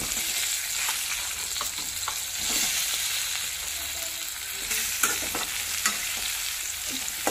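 Bitter gourd frying in a pan with turmeric, a steady close sizzle broken by repeated scraping stirs of the spoon, with no voices over it.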